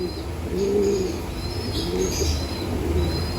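Racing pigeons at a loft cooing in soft, low, repeated phrases, close by and moderately loud, with a few faint chirps and no talking.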